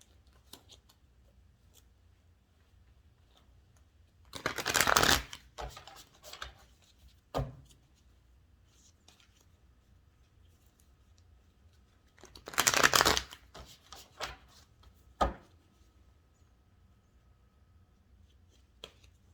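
A Light Seers tarot card deck being shuffled in two short, close bursts of riffling, separated by quiet pauses and a few soft taps.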